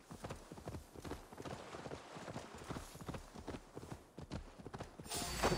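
Horse hooves clip-clop in a steady trotting rhythm in the video game Assassin's Creed Valhalla, close and clear, with game sounds underneath and a brief swell near the end.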